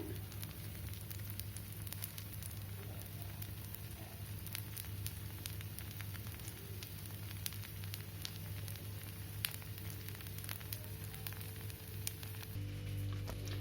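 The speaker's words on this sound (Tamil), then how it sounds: "நம்ம தோசையை சுட்டு எடுத்தாச்சு" A dosa cooks on a pan with sesame oil, giving a faint, continuous crackling sizzle with scattered light pops over a low hum.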